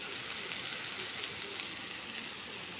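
Bora fritters fry in a small amount of oil in a pan over lowered heat, giving a steady, close, continuous sizzle with soft crackles.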